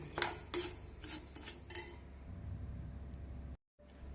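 Roasted urad dal poured onto chana dal for garlic idli podi, a rapid rattling cascade of dry lentils clinking against a metal vessel in bursts during the first two seconds, then a softer settling rustle, followed by a short dropout.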